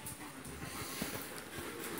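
A white shepherd and a regular shepherd dog play together, with close panting, snorts and soft whimpers over steady background noise.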